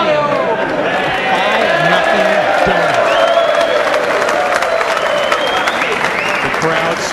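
A crowd at a Mosconi Cup pool match applauds and cheers in a sustained loud wash of clapping, with whistles and shouts rising over it and a commentator talking underneath.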